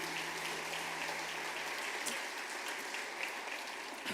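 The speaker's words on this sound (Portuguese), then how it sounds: "Dê um aplauso a ele" A church congregation applauds during a Pentecostal sermon, a soft, diffuse patter of many hands clapping throughout, heard from a distance with a low hum beneath and no voices over it.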